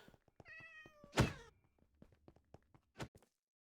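Cats in a room: a drawn-out meow followed by a louder, sharper meow, then a short one near the end, over quiet scattered thumps and small knocks.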